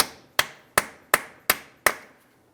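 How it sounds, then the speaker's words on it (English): Hammer and punch striking the center of a front wheel hub axle on a 2006-2012 Ford Fusion: five sharp, evenly spaced metallic blows, each ringing briefly, close and loud with no talk. "Let's continue on with a hammer and punch directly in the center of the axle."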